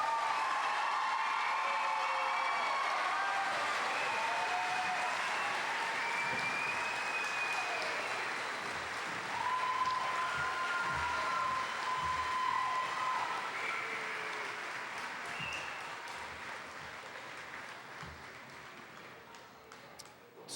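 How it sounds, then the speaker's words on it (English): Sustained applause from a large audience honoring graduates at the Winooski High School 2010 graduation ceremony in Vermont, with scattered cheers and whistles over dense steady clapping that slowly thins toward the end. "Can we now please have a round of applause for all the graduates?"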